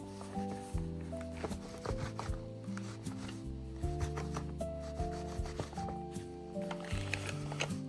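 A microfiber cloth rubs and scrubs the plastic top of a Dyson stick vacuum's Digital Motorbar head, giving close, uneven squeaky scraping strokes with knocks and a faint tonal hum underneath.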